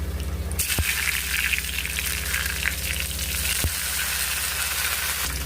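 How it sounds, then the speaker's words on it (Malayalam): Mustard seeds frying in coconut oil in a pan for a jackfruit stir-fry, a steady close sizzle with fine popping crackle throughout, no voices. "കടുക് വറുത്തിടാൻ വെളിച്ചെണ്ണ ഒഴിച്ച് കൊടുക്കാം."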